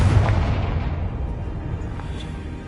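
A Confringo fire spell blast in a video game: a deep, booming explosion that rumbles and slowly fades over a couple of seconds, heard alone without speech.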